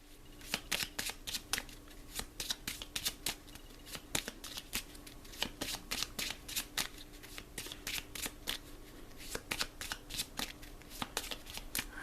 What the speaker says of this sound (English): Okay, that's shuffled.